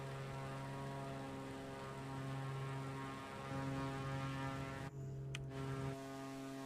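Steady droning hum of A32NX airliner engines in a flight simulator game, a continuous tonal whine that holds level throughout with a brief dip near the end, with no speech.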